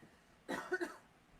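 A single short, quiet throat clearing, a rough gravelly burst with two small catches, surrounded by near silence.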